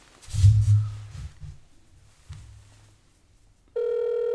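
A few low thumps and handling noises come first, then a loud, steady electronic phone ringback tone starts near the end and holds to the close.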